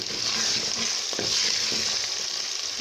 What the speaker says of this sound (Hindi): हमने इसमें प्याज शामिल कर दिया है। अब हम इसको थोड़ा सा भून देंगे